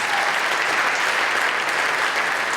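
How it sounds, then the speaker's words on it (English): An audience at a performance of Elegies for Angels, Punks, and Raging Queens at the Latchis breaks into sustained, dense applause, loud and steady throughout with no voices standing out. "Applause, big applause."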